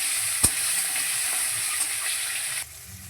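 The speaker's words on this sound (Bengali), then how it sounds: "টমেটো কুচি দেওয়ার পরে কিছুক্ষণ তেলের মধ্যে নাড়াচাড়া করে নেব" Chopped tomatoes stirred and frying in hot oil for a Bengali rohu fish curry with potato and eggplant. A steady, close sizzle runs throughout, with one sharp knock near the start and a quieter stretch at the end.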